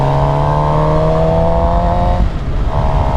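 Suzuki GSX-R750 motorcycle engine at a steady, loud drone while riding a small back road, with clear harmonic whine and wind rumble, a brief dip in pitch near the end as the throttle shifts.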